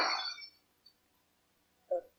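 A pewter mug strikes a stone fireplace without breaking, giving a sharp metallic clank with a brief ring that fades; a small tap follows, then a second, duller knock near the end.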